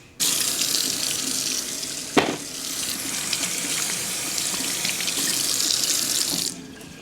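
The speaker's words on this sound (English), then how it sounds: "give them a good wash before you cook them" Potatoes being washed under a steadily running kitchen tap, a close, continuous splashing stream lasting several seconds with one brief knock partway through, no talking.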